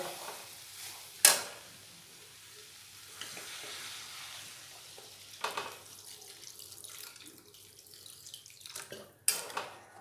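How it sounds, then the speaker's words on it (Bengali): Water poured into a pan of cooking ghugni, a quiet hiss and splash followed by low simmering, with a few sharp clanks of a utensil against the pot, faint overall. "এবার ওতে দিয়ে দেব জল"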